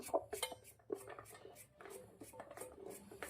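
A kitchen knife cuts bottle gourd into large pieces on a board, giving a series of close, irregular chopping knocks and clinks with short scraping touches between them, and no talk.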